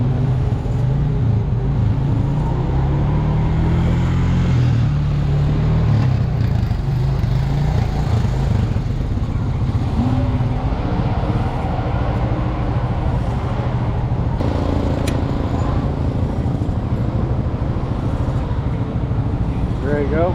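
A USAC race car's engine drones continuously while lapping Lincoln Park in a racing video game, a dense, loud hum that barely changes from start to end.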